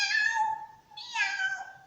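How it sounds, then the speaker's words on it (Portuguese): A cat gives two clear, close meows, the second rising and drawn out, with a short gap between them and a quiet background. "Dá para escrever o som que representa a fala do gato?"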